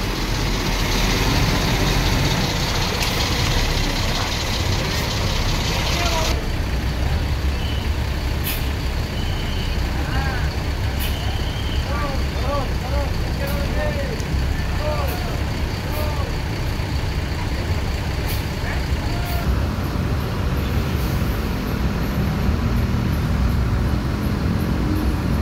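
A new Gunung Harta Jetbus 5 coach idles at a terminal departure shelter with a steady loud engine rumble, hisses and faint beeps over the bustle of the station, while voices talk in the background.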